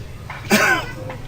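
A single short cough bursts out about halfway through, close and moderately loud, with faint room quiet on either side.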